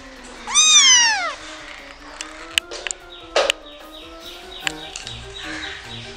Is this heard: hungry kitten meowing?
yes